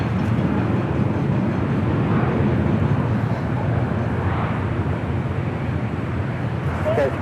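Nippon Cargo Airlines Boeing 747 cargo jet taxiing at Los Angeles International Airport, a steady low engine rumble and broadband roar holding throughout, moderately distant with faint background airport noise.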